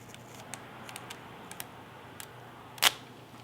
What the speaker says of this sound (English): Take a pair of scissors, pull tension, and just cut it.